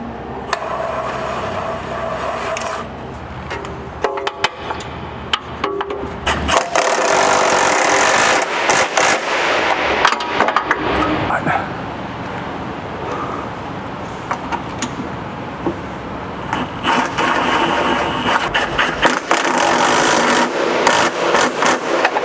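Bolts are tightened one by one on an MITS alloy canopy fitted to a ute, heard as irregular metallic clicks, ratcheting and knocks close by, with bursts of louder tool noise and clatter and no talk.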